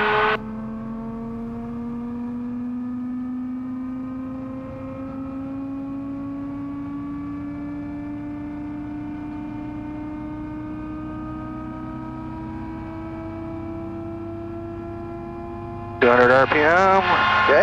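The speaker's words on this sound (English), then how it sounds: "All right, rotor spinning up." Aircraft rotor spinning up before a takeoff from runway 26 right, a steady loud drone rising slowly in pitch, with a louder burst of engine noise near the end; a voice talks over it on the radio.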